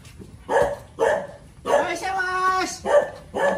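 A dog barks in short repeated bursts, fairly close, in a home setting, with people talking between and over the barks.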